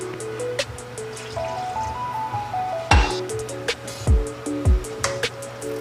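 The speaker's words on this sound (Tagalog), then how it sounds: "maglalagay tayo ng 2 cup na tubig" Two cups of water are poured into a cooking pan of chicken tinola with chayote, giving brief trickles and splashes over background music.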